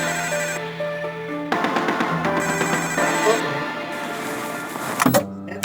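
A telephone ringtone chimes in a repeating electronic pattern at moderate level, with background music and a short voice-like burst near the end.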